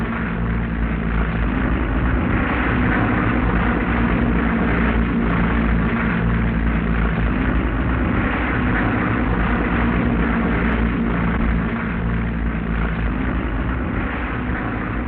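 Propeller airplanes from a 1929 flight-training setting drone steadily overhead, a loud continuous engine rumble with pulsing low tones that fills the whole stretch without letup.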